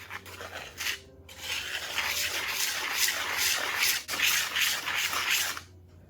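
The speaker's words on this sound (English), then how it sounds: "give this a quick whisk until it's well blended" Flour and seasoning salt being whisked together in a pan make brisk, rhythmic scratchy strokes, close up, after a short pause near the start and with a brief break midway.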